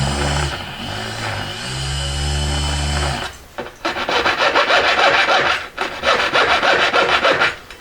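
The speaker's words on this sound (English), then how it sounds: "when I cut up close to the setting edge, I can lean the blade back a little bit, just for like safety precaution" A hand saw blade rasps through the metal shank of a ring being cut for a baguette setting, starting with a steady drone and then breaking into rapid, close, rhythmic back-and-forth strokes with brief pauses.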